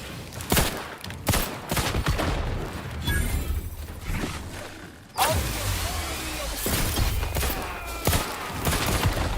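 Heavy gunfire in The Outer Worlds 2 video game, with rapid bursts and sharp individual shots mixed with mechanical clanks and a loud blast partway through, continuing loud and busy to the end.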